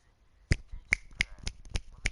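Six sharp, close finger snaps in a fairly even rhythm, each a crisp isolated crack over a quiet background, with no talking.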